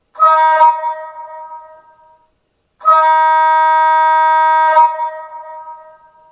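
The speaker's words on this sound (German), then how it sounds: "Mit F9 gibt es ein tiefes Signalhorn." Deep signal horn of a 1:32 scale Gauge 1 model DB Köf II shunter, sounded twice: a short blast fading away, then a longer sustained blast of about two seconds with a trailing decay, loud, close and alone.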